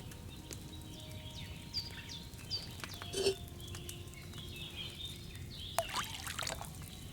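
Wine poured into a cauldron in Kingdom Come Deliverance 2, a faint, quiet liquid trickle against soft ambient background with a few small clinks and outdoor sounds.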